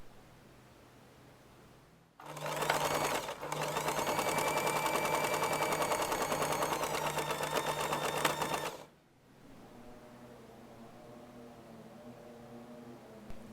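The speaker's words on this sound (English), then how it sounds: "we'll sew along the other side of the fabric" Electric sewing machine stitching a seam along the edge of fabric for a round zippered pouch lining: a steady, fast, even mechanical whir of needle strokes for about six seconds, briefly pausing once, with quiet hum before and after.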